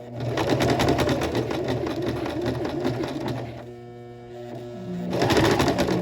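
A sewing machine stitches a curved shirt seam, a fast, close, steady mechanical whirr that stops for about a second and then starts again, with a faint background coo.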